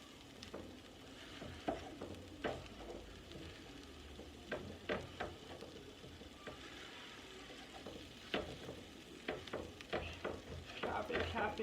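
Chopped onions heating in a pan for a vegan New York chopped cheese sizzle and fry quietly, while a utensil scrapes and taps as they are stirred, the clicks coming in irregular bursts over the steady hiss.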